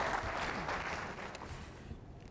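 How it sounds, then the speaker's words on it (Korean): Seminar audience gives applause as a speaker comes on stage, a thick continuous crowd clapping heard throughout, gradually thinning toward the end. "박서영 소장님 나오실 때 큰 박수 부탁드립니다"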